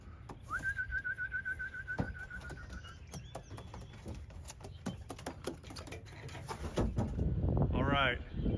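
Homing pigeons in a loft make soft cooing and bird calls amid clattering, tapping noises, with a whistle-like tone early on and a rising warble near the end.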